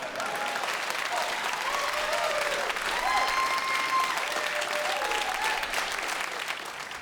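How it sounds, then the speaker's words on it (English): Comedy club audience applauding at a stand-up show, a full sustained round of clapping with some cheers and whistles on top, fading slightly toward the end. "Round of applause if that's the Brooklyn"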